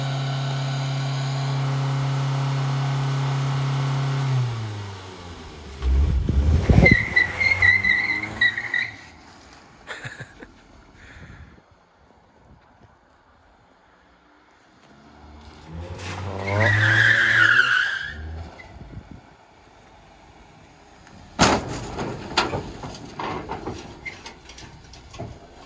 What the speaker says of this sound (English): I just wanted to warm up the tires first so they didn't slide, you know, off the ramp.